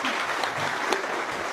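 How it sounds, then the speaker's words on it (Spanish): Applause from an audience at a church gathering, a brief burst of dense, steady clapping close at hand. "un aplauso para ustedes que estuvieron aquí, pudieron escuchar."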